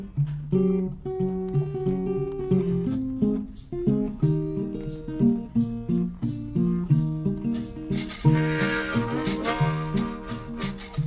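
Harmonica, or blues harp, played on a folk television program for the song Railroad Bill. It starts alone with rhythmic chords and melody and is fairly close, and a brighter wash of sound builds near the end.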